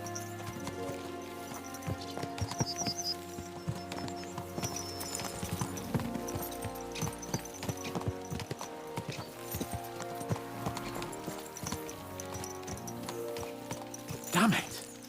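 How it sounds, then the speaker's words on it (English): Galloping horse hooves in Kingdom Come: Deliverance II drum in a steady rhythm under game music and ambience, with a brief louder burst near the end. "Let's really spur these horses on, eh?"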